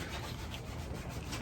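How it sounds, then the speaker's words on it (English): Hand sanding with 220-grit sandpaper during prep for painting a car's engine bay, a steady close scratchy rubbing that runs continuously with no pauses. "Get sanding."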